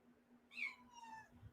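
A cat gives a single clear meow indoors, rising then trailing off over about a second, close and moderately loud against a quiet room hum.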